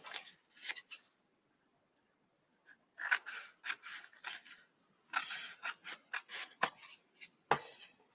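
Scissors trim a paper craft piece in short bursts of crisp snipping, first a couple of cuts, then a pause, then two quick runs of close, sharp cuts.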